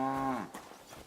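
A cow gives one close, loud, drawn-out moo that trails off in a farm setting in the video game Kingdom Come Deliverance II, followed by faint background ambience.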